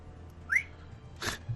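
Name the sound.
person whistling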